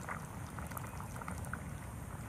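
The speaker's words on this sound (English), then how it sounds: "It's been boiling for a good 10 minutes or so." Soft, steady bubbling of stew simmering in a pot, low and continuous with faint pops scattered throughout.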